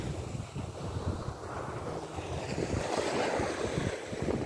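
Ocean surf breaks steadily on a windy beach at Prasonisi, Rhodes, with wind buffeting the microphone and a continuous rushing wash of waves building slightly louder toward the end.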